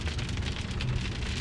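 Steady outdoor rain falling on surfaces, a dense, loud, continuous patter close by with no voices.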